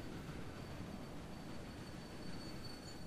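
Trains in the Railway Empire video game hauling cargo along a line, heard as a steady, even rolling rumble with a faint high whine, continuous throughout with no talk.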